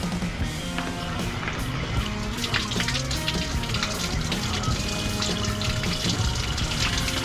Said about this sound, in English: I'm just gonna run water through the block